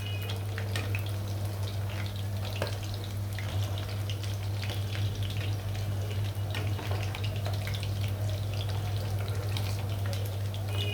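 Chicken kofta deep-frying in a pan until maroon, a continuous crackling sizzle with a low steady hum underneath, no talking.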